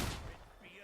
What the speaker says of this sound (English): She's trying to shoot me.